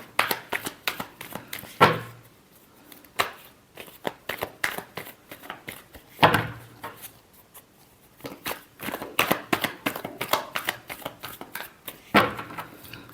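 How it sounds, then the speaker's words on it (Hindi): Tarot cards are shuffled in repeated bursts of rapid, riffling clatter, three main waves with short pauses between them, close and fairly loud with no talking. "Last shuffle."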